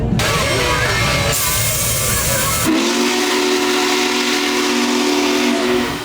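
Union Pacific 4014 Big Boy, the world's largest steam locomotive, sounds its steam whistle in a loud sustained blast with rushing hiss, preceded by heavy steam and rail noise, close and dominant throughout.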